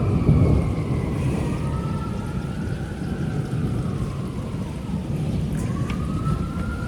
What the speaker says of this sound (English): see if you can hear the sirens